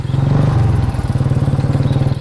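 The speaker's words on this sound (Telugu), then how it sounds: "నాది కిరసనాల బండి అండి" Kerosene-fuelled motorcycle idling up close, a loud, fast, lumpy engine putter with a regular chugging pulse and a slight rise in revs at the start.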